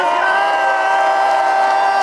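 A concert crowd cheering at a hip-hop show, loud and sustained roaring with whoops and shouting voices blended into a dense wall of sound.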